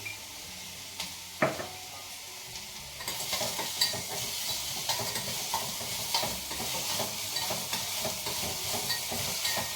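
Onions sizzle and crackle in hot oil for a tempering, with a few clunks and stirring scrapes of a pan before the frying settles into a steady hiss.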